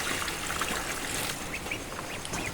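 Domestic ducks quacking continuously in a rainy nighttime pen, with steady rain and trickling water hissing underneath and occasional nearer calls poking through the wash.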